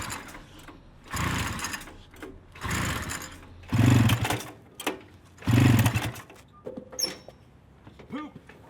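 A 440cc Murray engine being cranked: several loud, close pull-start bursts of rough churning that fail to catch, separated by pauses, with a brief voice near the end.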